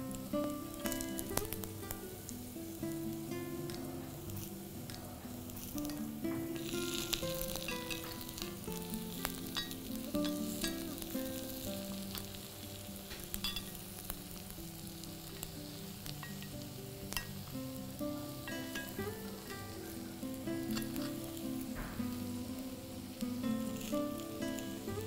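Sweet buckwheat paniyaram batter fries in a pan, giving a steady, soft sizzle with scattered crackling pops and occasional clinks of a utensil for the whole stretch.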